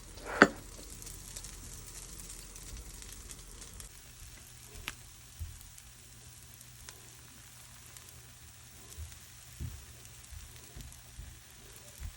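A Jaffna-style dosa fries on a griddle with sesame oil drizzled around its edge, opening with a sharp sizzle burst, then a steady soft crackle with occasional faint pops throughout.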